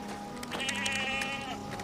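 A goat bleats in a series of wavering, nasal calls, close and fairly loud over a faint background hum, with no talking.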